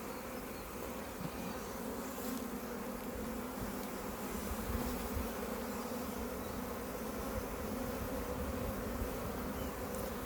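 Honeybees buzzing in an open beehive during a hive inspection, a dense continuous drone of many bees, steady and close throughout with no talking.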